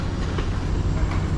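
A passenger train in Brisbane rumbles steadily from the inside, with a constant low rolling drone and faint clickety-clack of wheels on rails, no voices, continuous throughout.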